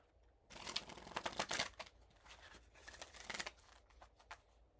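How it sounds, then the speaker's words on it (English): Oracle cards are shuffled by hand in quick, papery riffling bursts, close and soft, with brief pauses between the flurries and no talking. "I haven't shuffled the Oracle, so I'm just going to do it on camera real quick."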